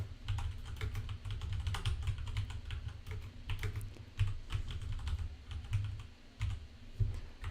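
Someone types a password on a computer keyboard, producing a quick, uneven run of close key clicks and taps with no speech.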